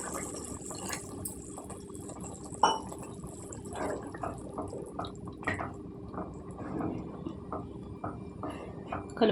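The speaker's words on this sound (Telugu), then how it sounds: "ఇప్పుడు నీళ్ళు వేసుకోవాలండి" Water poured into a simmering egg curry, with soft drips and liquid splashes in short bursts, close and moderately loud with some faint background noise.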